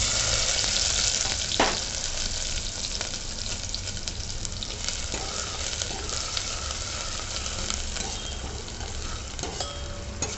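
Fenugreek seeds and a chili, ginger, garlic and coriander thecha frying hard in hot oil for Khandeshi kadhi, a loud, steady close sizzle throughout, with a few faint utensil clinks.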